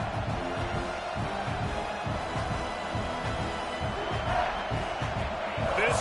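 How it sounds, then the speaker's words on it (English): Stadium crowd noise from an American football video game, a steady roar of a large audience holding at a moderate level throughout with a slight swell near the end. "This crowd going to try to make life miserable for these guys"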